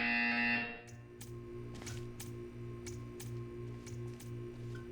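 A loud, harsh buzzer in the Portal 2 video game sounds at the start, then cuts out, leaving a low pulsing electronic hum with faint intermittent clicks.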